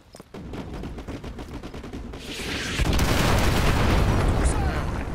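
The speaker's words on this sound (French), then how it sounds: "Ça, c'est de l'explosion." Rapid gunfire rattles in Call of Duty Modern Warfare 2, then a large explosion swells into a sustained roaring blast, loud and close with battle noise throughout.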